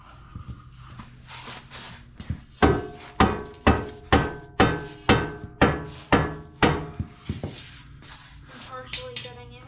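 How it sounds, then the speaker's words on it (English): Steady metal hammer blows strike Mercedes W210 4-Matic front axle parts, about a dozen sharp evenly spaced hits with ringing decay, set between softer handling noises and brief chatter. "Maybe I shouldn't have put the hammer away."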